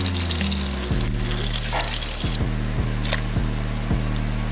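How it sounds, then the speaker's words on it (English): Water pours steadily into a pot of beer and crayfish, a continuous loud rushing fill with a few knocking thuds as it rises. "Anything that it doesn't cover, I'm gonna fill in with water and then season."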